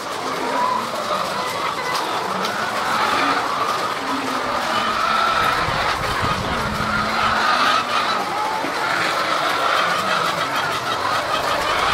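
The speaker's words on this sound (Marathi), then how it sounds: "आता खायला सगळी सुटलेली आहेत कोंबड्या." Hens in a layer poultry farm cluck and chatter continuously while feeding, a loud, dense flock sound with scratching and shuffling that stays steady throughout, with no voices.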